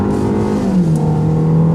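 A 2016 Ford Explorer accelerating hard on a winding canyon road, engine note rising steadily and loud up close with a continuous revving drone.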